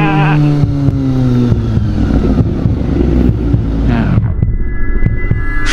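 A Kawasaki ZX25R with a loud aftermarket exhaust runs on a city street where police are doing a roadside check. Its steady, throbbing engine drone stays close and loud throughout, with a quick pitch shift near the end.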